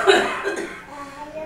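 A single cough with some throat clearing, close to the microphone and fairly loud, followed by fading room noise.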